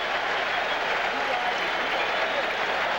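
A huge stadium crowd of about 58,000 cheers steadily inside the Hoosier Dome during a 1987 Oilers at Colts football game, a dense, continuous roar with no pauses.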